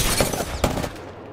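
Prowler gun firing in a video game, with two sharp bursts of rapid shots close up at the start and middle, trailing into a fading rumble.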